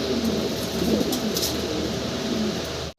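A pair of full running white Muraj silk fancy pigeons coo steadily in soft, throaty rolling notes, close and continuous over a background hiss, cutting off abruptly at the end.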